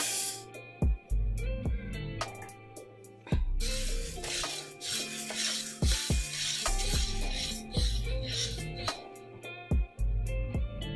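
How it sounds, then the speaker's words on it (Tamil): Green gram lentils dry-roast in a pan with a continuous rustling sizzle, broken by repeated sharp scraping strokes and clatters as they are stirred; no voices. "பாருங்கோ, பயிரை வறுக்க போகிறேன்."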